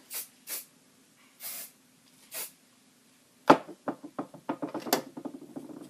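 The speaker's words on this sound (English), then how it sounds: "I'm going to go ahead and spray this down." Several short bursts of hairspray hiss in sequence onto teased hair, followed by a run of quick clicking and tapping sounds close by.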